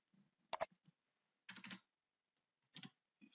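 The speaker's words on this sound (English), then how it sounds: "So let's type our date" Keys on a computer keyboard tapped in three short bursts, a quick double click followed by two clustered runs of keystrokes, close and fairly quiet with no voices.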